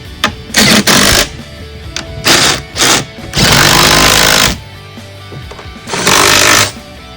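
Ratcheting and power-tool bursts while tightening the bolts on a Pentair Whisperflow pool pump during seal and gasket replacement, five or six loud buzzing runs of about half a second to a second each, separated by brief pauses.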